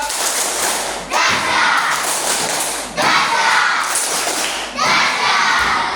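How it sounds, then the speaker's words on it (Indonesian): Classroom of elementary students clapping in three loud bursts of rapid hand claps, each burst roughly a second or more long with brief gaps between, filling the room with bright crackling applause. "Kasih 3 kali tepuk dahsyat untuk kelompok 2"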